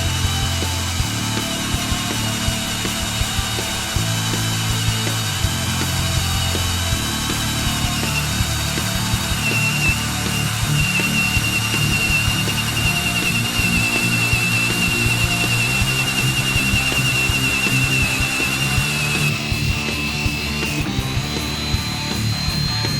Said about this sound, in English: 3/4 inch paddle bit here to try to drill through these 2 2x4s.